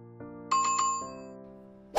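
Bell-like chimes ring out as a short sound effect: a few quick bright dings in succession, then a lower tone that fades, ending with a sharp new strike.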